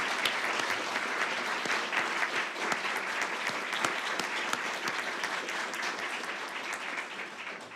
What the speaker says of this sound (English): And that's worthy of a round of applause for everyone.